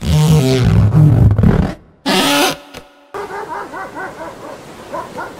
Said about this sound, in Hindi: पर कुत्तों की आवाज जरूर आ रही थी